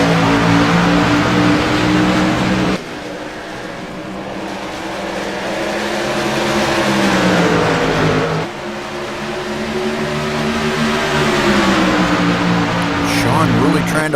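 Race cars accelerate at a green-flag restart, engines roaring loud and sustained with pitch rising and shifting as the field pulls away, while a commentator talks over the noise throughout.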